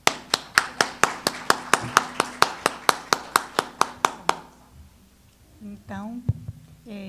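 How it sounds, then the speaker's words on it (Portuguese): Audience applause at a conference honoring Primo Levi: a run of about fifteen sharp, evenly spaced claps rings out loud and clear, then stops and gives way to a brief murmur and a few faint voice sounds. "antecedida por uma salva de palmas"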